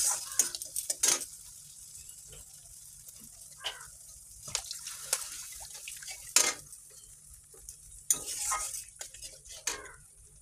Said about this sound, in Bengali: এই যে জল দিয়ে দিলাম, জলটা ফুটছে